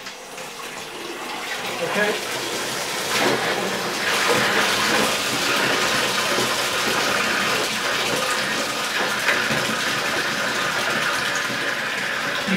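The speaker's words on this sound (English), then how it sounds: "this is a bypass valve, and when I open this, the water will come out" Water and air mixed gush out under pressure from the bypass valve of a homebrew portable pressure tester, a steady hissing spray lasting the whole stretch with a brief spoken word over it.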